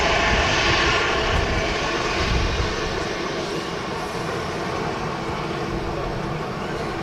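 An airliner repositions at windy Manchester Airport, its engines a strong, steady roar that eases slightly midway and continues at a lower level.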